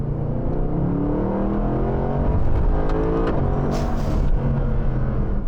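A Mercedes-AMG SLS Black Series supercar engine revs and roars continuously in manual mode, loud and close, with rising and falling pitch as it accelerates.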